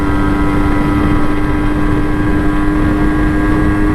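An MZ TS125 motorcycle fitted with a Mikuni carburettor cruising at speed on a dual carriageway, a loud steady engine drone with a sustained whining tone under heavy wind rush, no voices.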